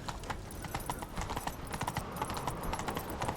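A horse gallops in a fantasy video game, steady rapid hoofbeats clip-clopping close and clear throughout with no talk over them.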